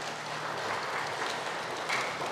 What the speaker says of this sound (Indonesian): Tepuk tangan untuk lansia ini.